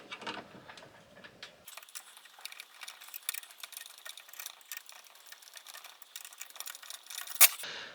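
Screws being backed out of the fan mounts on a white Corsair Hydro X XD5 RGB pump-reservoir unit: close, light clicking and ticking with small metallic rattles, steady and quiet, with no talking.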